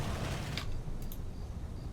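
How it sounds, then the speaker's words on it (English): Game explosions in a World War II Normandy battle, a dense, steady rumbling roar with a sharper burst early on and faint crackles after, heard without talk. "Explosion effect"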